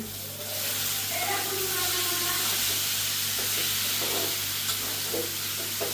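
Garlic spice paste fries in oil in a pan, giving a steady broad sizzle with a low background hum and a few faint stirring clicks, heard close and continuous.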